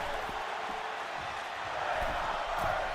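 Steady roar of a wrestling crowd in a WWE 2K25 video game arena, a dense, continuous wash of cheering and noise that swells slightly toward the end, with faint thumps beneath.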